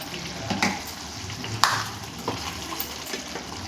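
Chicken masala powder stirred into chili chicken curry sizzling in oil, a soft steady frying hiss with a few light scrapes of the spoon, close and quiet.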